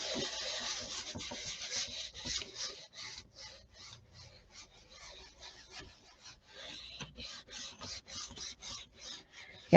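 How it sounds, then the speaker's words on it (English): Paper being rubbed by hand against a page edge at a craft station, a close, steady run of soft scratchy strokes in an irregular rhythm with no talking. "I'm going to line it up with the edge of my page over here. And rub it."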